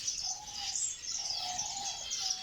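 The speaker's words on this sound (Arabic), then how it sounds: "انا ذني الفينيشات" Small finches in an Iraqi aviary chirp continuously, a dense layer of high tweets with a few longer whistled tones, close and moderately loud with no talking.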